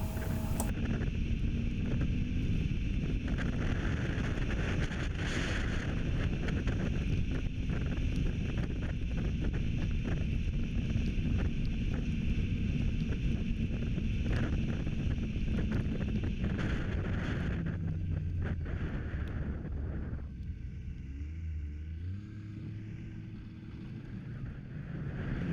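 A four-stroke snowmobile running along a trail, a loud, steady engine drone with heavy wind buffeting on the microphone that eases and drops in pitch as the sled slows near the end.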